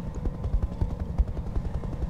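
Helicopters in the BattleTech mod Roguetech make a steady rhythmic rotor thumping, a low pulsing chop at moderate volume with nobody talking.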